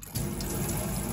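A tap runs steadily during descaling of a home hot and cold water system, a constant close rush of water that starts abruptly and continues unbroken.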